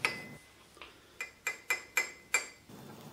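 A glass rod stirs calcium hydroxide powder into acid in a glass container, making a run of about seven light, ringing clinks at an uneven rhythm, close and fairly quiet, with no talk.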